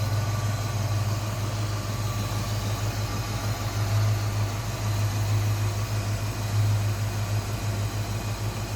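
A 289 V8 engine in a 1966 Ford Mustang Convertible idling steadily up close, a smooth, even low rumble with a constant hum and no speech.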